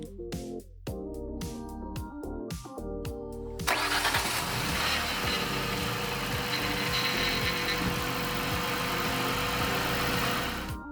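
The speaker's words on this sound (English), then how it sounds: "started the engine" A Jaguar X-type engine cranks in short bursts, then catches and settles into a steady idle, running loud and close with no talk over it.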